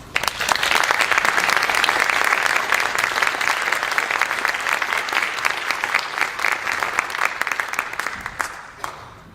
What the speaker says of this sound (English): we need to give another round of applause